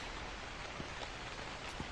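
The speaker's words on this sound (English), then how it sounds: "Oh god, the rain is just way too loud." Heavy rain in a video game set outside a convenience store, a dense steady hiss of downpour, faint and unbroken over the short stretch.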